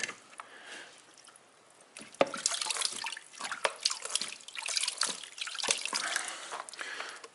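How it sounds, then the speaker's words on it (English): Gold concentrates are washed with water into a small black pan, a close splashing and dripping with irregular pours and trickles after a quieter start. "we'll wash these concentrates into this little black pan"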